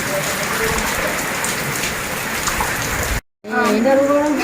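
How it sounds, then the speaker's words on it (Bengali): Steady night rain pours in a dense, loud hiss, cuts out briefly near the end, then returns with a voice faintly audible under it. "বৃষ্টি"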